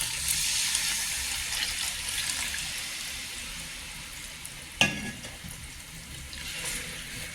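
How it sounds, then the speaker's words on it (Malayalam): A thick mukkutty lehyam mixture is stirred and simmered in a pan, giving a steady hiss with bubbling and sizzling, plus one sharp scrape or knock partway through. It sounds close and there is no talking. "വീണ്ടും നല്ലതായിട്ട് ഇളക്കിക്കൊണ്ടേയിരിക്കണം"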